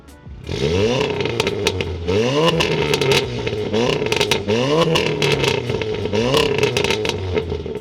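A tuned stage 2 2016 VW Golf R's 2-litre engine revs hard over and over, pitch sweeping up and dropping back with crackling pops between bursts, filling the whole clip.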